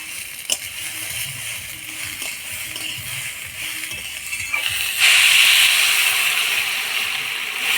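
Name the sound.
water poured into hot pan of broken rice, hissing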